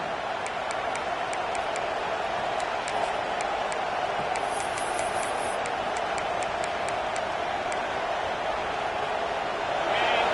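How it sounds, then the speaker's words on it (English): A stadium crowd at a college football game roars steadily behind the defense on third down, a dense continuous wash of cheering with scattered sharp ticking noises over it and the noise swelling slightly toward the end. "Decibels rising as the crowd gets behind this defense on third down."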